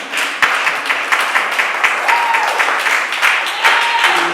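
A church congregation claps and cheers during a morning service, dense sustained applause filling the room with rhythmic bursts and scattered voices through the whole stretch.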